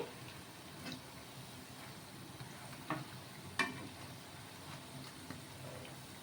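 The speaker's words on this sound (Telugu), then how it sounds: "ఇలా రెండు వైపులా కూడా మనకి గోల్డెన్ కలర్ వచ్చే వరకు వేయించుకోవాలి ఈ వడలు వచ్చేసి ఫ్రై చేసేసుకోవాలి" Sago and moong dal vadas frying in hot oil until golden, a faint steady sizzle with a few soft bubbling pops and spatula touches, close and low in level, no talk.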